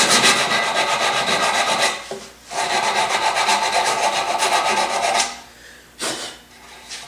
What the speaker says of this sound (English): A slightly rounded corner looks nicer than a very sharp edge. So just scrub those a little bit.